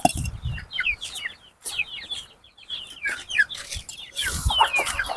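Chickens cluck and chatter steadily, close by and fairly loud, with overlapping calls and some higher chirps from several birds in a farmyard setting.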